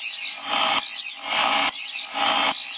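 A grinding wheel lightly sharpens the bevel of a scraper blade in close, steady rasping passes, the blade moved back and forth about three times with brief gaps between strokes.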